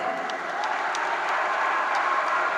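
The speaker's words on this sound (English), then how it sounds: "A big applause to her parents" A crowd applauds in a dense, steady wash of clapping that holds at an even level throughout, with no voices standing out, at an event honouring Indian women's cricket captain Harmanpreet Kaur.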